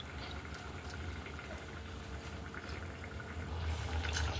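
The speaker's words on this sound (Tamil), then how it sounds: "குழம்பு லைட்டாக கொதி வர ஆரம்பிச்சிச்சு" Tamarind kuzhambu curry coming to a gentle boil in a pot, a steady low bubbling and simmering wash with faint irregular pops, close and continuous, no voices.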